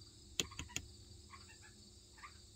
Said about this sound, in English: That's a frog.